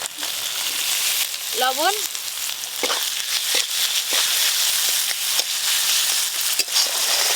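Chopped tomato sizzling in hot oil with spices in a village-style kitchen, a steady loud frying hiss throughout with soft stirring knocks and a brief voice over it.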